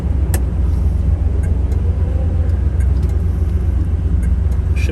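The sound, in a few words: 1969 Camaro engine while driving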